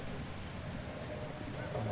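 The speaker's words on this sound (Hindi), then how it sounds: "बारिश भी शुरू हो गई है।" Rain falls as a steady, dense hiss through a dramatic scene, with a continuous wash of sound and a low rumble underneath, even and unbroken throughout.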